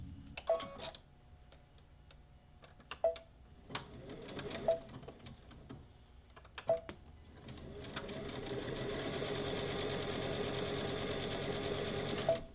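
A sewing machine stitching along both sides of fabric for an Easter basket, short bursts of rapid needle clatter separated by pauses, then a long continuous run of stitching toward the end.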